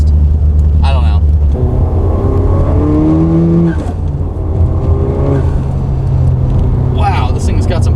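A Honda Civic Type R with rolling anti-lag drives with a steady loud engine drone and rising, shifting revs as the gears grind on each change, with people talking inside the car throughout.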